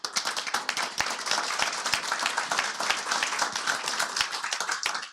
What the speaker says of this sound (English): and give them a big hand